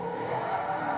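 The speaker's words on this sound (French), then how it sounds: "Un coup d'accélérateur pour drifter." Race car in the video game Forza 2 drifting under a burst of throttle, a steady engine roar with tire noise, brief and alone without talk.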